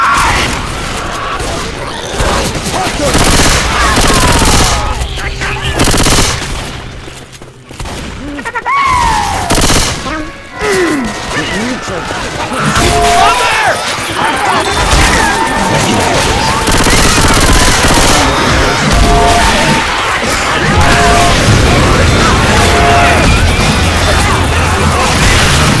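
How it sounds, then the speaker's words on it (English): Gunfire while shooting zombies in the video game The Parish, rapid bursts and single shots rattling loudly throughout, mixed with crashes, mechanical clatter and game effects, and a brief lull partway through. "Shoot that zombie in the back!"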